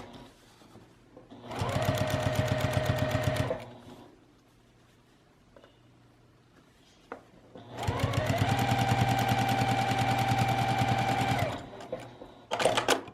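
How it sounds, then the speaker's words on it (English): A sewing machine stitches binding onto a fabric sewing machine mat in two loud, steady runs, one about two seconds and a longer one about four seconds, with quiet handling sounds between them. "we're just gonna run a stitch all the way down this other side here just to attach it"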